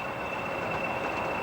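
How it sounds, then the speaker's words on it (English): A pair of Class 20 diesel locomotives haul a loaded merry-go-round coal train toward Ratcliffe Power Station, a steady dense rumble and roar with a sustained high whine running throughout. "This pair approached Ratcliffe Power Station with a loaded train."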